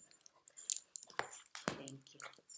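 Dogs crunching on crunchy cookie treats at home, a few sharp bites and chewing bursts close by, with brief faint voices in the background.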